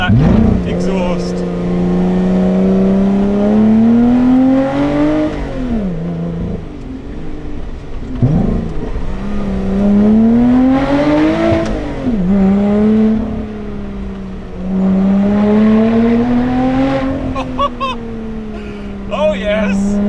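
A Lotus Exige 380 Cup's engine and exhaust rev and pull through rising, falling gear sweeps, loud and close, with someone talking in between.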